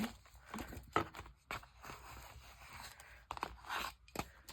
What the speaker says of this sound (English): Come on, there's a scissor here.